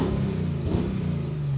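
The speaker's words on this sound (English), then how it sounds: "You definitely can hear the supercharger a lot more." A Mercedes E55 AMG with a custom intake revs briefly, a steady low engine drone rising slightly with a faint supercharger whine layered on top, heard close up from inside the car.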